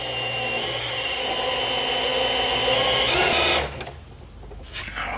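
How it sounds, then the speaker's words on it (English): A power drill primes the oil pump of an LS3 engine in a Miata swap, a steady loud whine that holds for a few seconds under load, then drops away, leaving quieter mechanical noise. "You can hear the drill get harder."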